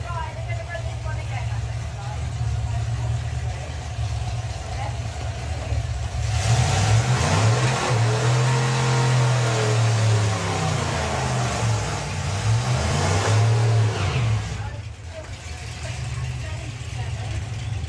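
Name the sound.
drag racing car engine revving at drag strip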